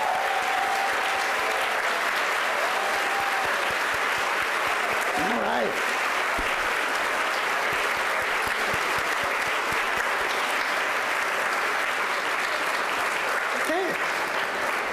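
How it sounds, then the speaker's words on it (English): Sustained applause from parents and family members standing at a valedictorians luncheon, a steady dense clapping that fills the room throughout, with a brief spoken interjection near the middle and another near the end. "Let's give them a big round of applause."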